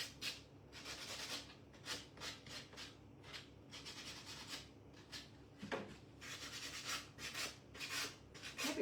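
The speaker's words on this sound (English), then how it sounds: "Might be time for me to get a new 80 grit sanding block out." An 80 grit sanding block rubs back and forth across a craft piece in rhythmic, scratchy strokes, close and fairly quiet, with no talking.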